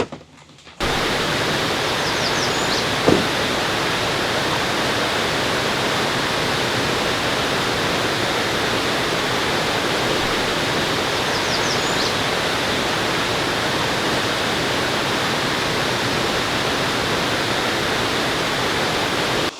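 Waterfall viewed from a cliff trail beside a green forest canopy in the rain, a steady broadband roar of falling white water that fills the clip continuously, with one brief knock early on and no talking.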